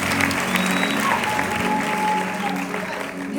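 An audience claps together at a gospel music event, a dense, steady round of applause that holds for several seconds at close range.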